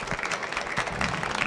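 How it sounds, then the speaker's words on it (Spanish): An audience after a panel talk breaks into a brief burst of applause, close and fairly loud, lasting only a second or two. "Un aplausito para nosotros."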